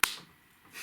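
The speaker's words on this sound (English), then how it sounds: "I'm going to clap my hands" A single sharp hand clap rings out near and loud at the start, then fades into near silence, with a faint rustle just at the end.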